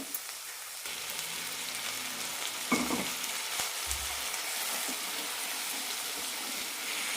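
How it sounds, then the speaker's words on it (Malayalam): Chickpeas and tomato sautéing in a pan, a steady close sizzle with a few soft scraping stirs and a brief clatter partway through, no voices. "ഒരു മിനിറ്റ് നന്നായി വഴറ്റാം"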